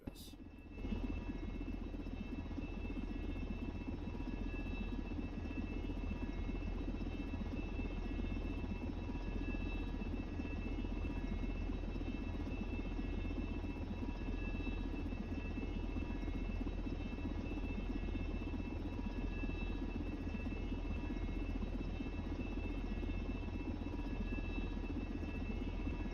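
A helicopter flies in the SimplePlanes video game, giving a steady, droning rotor and engine hum with a constant buzzy tone that holds unchanged for nearly half a minute.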